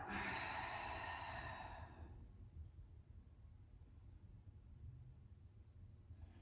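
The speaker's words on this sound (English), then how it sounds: "take that nice big breath in and out" A slow, deep breath out during a Pilates mat session, a soft airy exhale that fades after two seconds into quiet room hiss with a faint inhale later.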